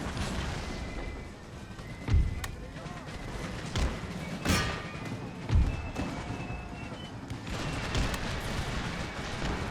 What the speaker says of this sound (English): Good volley from the wall.